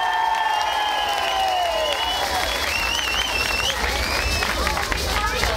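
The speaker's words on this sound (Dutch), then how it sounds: "Jongens, geef ze een applaus." A crowd at the Zwarte Cross festival in Lichtenvoorde, 2007, applauds and cheers loudly and continuously, with voices, whistles and shouts mixed into the clapping and talk over the top.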